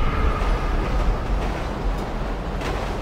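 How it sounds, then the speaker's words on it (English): Train rumbling close by in the video game GTA 5 Online on Mt. Chiliad, a heavy, steady low roar with rattling, loud and continuous for a few seconds with no talk. "We apparently couldn't jump out of the way of the train in time."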